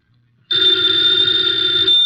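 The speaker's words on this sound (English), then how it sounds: "the ringing of that phone bell brings you mystery, adventure" A telephone bell rings loudly and continuously after a brief near-silent moment, a steady bright metallic trill with no voices, from an old-time radio drama broadcast.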